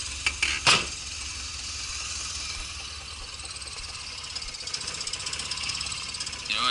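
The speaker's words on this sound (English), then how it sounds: "I'm just gonna kill it, because it definitely is not enjoying idling so low" A car engine with a leak, smoking and idling very low, runs roughly with uneven knocking and rattling, preceded by a few sharp clanks, fairly faint with no talk.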